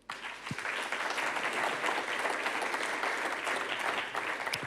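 Audience applauding Loïc Rivalin and Sarah Antier as they are introduced at a public science talk on gravitational waves, a dense, steady burst of many hands clapping that starts abruptly and holds at full strength throughout.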